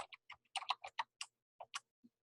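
A typewriter typing a letter: a quick, uneven run of crisp, close keystrokes in short bursts with brief pauses, quiet and alone without talk.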